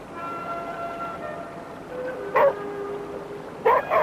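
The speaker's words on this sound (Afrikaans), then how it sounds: "Wie se hond is dit? Hy speel al die hele dag hier rond." A dog plays outdoors in a 1982 Afrikaans film scene, giving two short sharp yelps or barks a second apart over a steady background hum with faint tonal lines.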